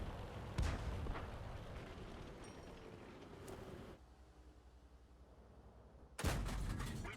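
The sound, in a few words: gunfire and tank cannon shots in a video game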